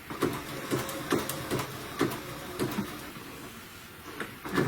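A sewing machine stitches applique on a Christmas stocking, giving a quiet, irregular series of soft mechanical taps and whirs spaced about a second apart, with no talking.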